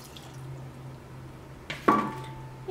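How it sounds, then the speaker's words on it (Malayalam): A cup of water is poured onto 200 grams of dates in a pot, a brief splashing pour arriving after a quiet stretch with a low steady hum. "ഇതിലേക്ക് 1 കപ്പ് വെള്ളം ചേർക്കുക."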